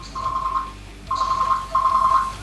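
A telephone rings in the Painkiller: Hell & Damnation video game, with three warbling electronic ring bursts in quick succession over a low background hum of game ambience.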